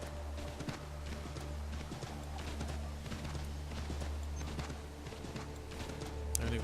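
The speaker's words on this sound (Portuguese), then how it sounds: "tem que ir de cavalo mesmo" Horse hooves gallop in a steady, rapid clip-clop beneath a constant droning in-game music bed while riding in the Assassin's Creed 3 video game; the hoofbeats stay moderately loud and even throughout.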